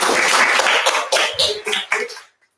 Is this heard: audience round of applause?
yes